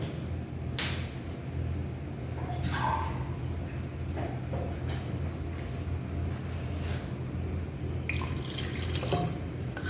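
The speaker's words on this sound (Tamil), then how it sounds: "இப்போ நான் மூணு டம்ளர் தண்ணி ஊற்றணும்" Water pours steadily into a pot while cooking mutton dum biryani, a continuous rushing splash with a few soft clinks and drips, close by and with no talking.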